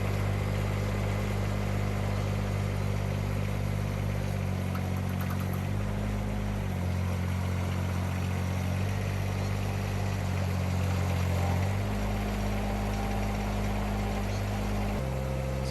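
A mini excavator's diesel engine rumbles loudly and steadily as the machine reverses and then drives forward to reposition in a gravel pit, its low drone shifting pitch with the movements, no talking.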